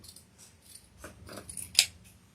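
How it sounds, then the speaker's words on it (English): Scissors snip along a fairly straight line through craft material, a few soft cuts building to one sharp, louder snip near the end, close and alone in a quiet room. "So I'm just going to cut where I did that snip, and I'm going to try and cut a fairly straight line."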